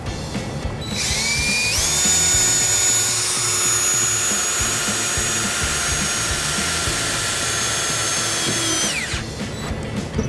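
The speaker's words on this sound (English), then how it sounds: "We'll take our electric drill and make our ground." An electric drill whirs up to a high steady whine, runs continuously for several seconds, then spins down while drilling a ground hole for trailer wiring on a 2015 Ford Escape. Close and loud.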